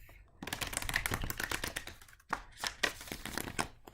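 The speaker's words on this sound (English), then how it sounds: "I'm going to shuffle again and see if it comes out again" Tarot cards shuffled by hand in two quick riffling bursts, crisp papery flutters close to the microphone with a short pause between.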